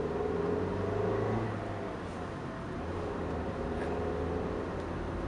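A 2015 Toyota Yaris pulls out of a parking spot, its engine a steady low hum with road rumble heard from inside the car, with no talking.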